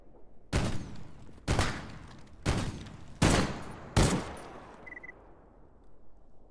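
Gunfire in S.T.A.L.K.E.R. GAMMA: five loud, separate shots or short bursts about a second apart, each with a ringing tail, then a fading echo and quiet.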